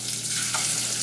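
Whole cloves frying in hot oil for pilau, a steady close sizzle with small pops and crackles, heard alone.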